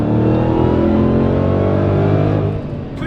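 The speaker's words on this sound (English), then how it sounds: "When the power band kicks in, you just feel the supercharger just lay down that power." A supercharged Dodge Challenger SRT Hellcat Redeye accelerates hard, its engine note loud and steady with a rising pitch and supercharger whine for about two and a half seconds before easing slightly at the end.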